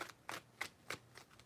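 Tarot cards are shuffled by hand in five or six distinct, evenly spaced riffle strokes, close up, soft and crisp, with near silence between them.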